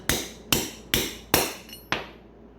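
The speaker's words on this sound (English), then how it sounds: "Take your hammer." Hammer taps on a socket, seating a wheel stud into a Yamaha Raptor 250 ATV hub: five sharp metallic strikes at an even, steady rhythm, close and loud, each ringing out briefly, with no talk.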